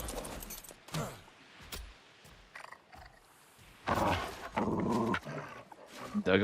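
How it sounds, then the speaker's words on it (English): A dog in ARK: Genesis growls and snarls in a few rough, throaty bursts, some short and some drawn out, at close range with brief pauses between them. "Dug up a dog again."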